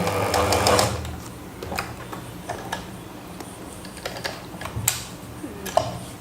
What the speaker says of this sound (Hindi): आपने इसकी जो सिलाई लगानी है वो एक साइड से डोरी को बंद कर दें